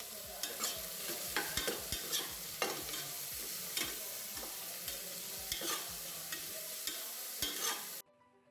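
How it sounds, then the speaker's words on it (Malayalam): Chopped onions sizzle and fry in hot ghee inside a pressure cooker while being stirred, with a steady crackling hiss and regular scraping strokes of a spoon, close and alone, ending abruptly. "ഇനി നമ്മുടെ സവാള നന്നായിട്ടൊന്ന് വഴറ്റിയെടുക്കണം."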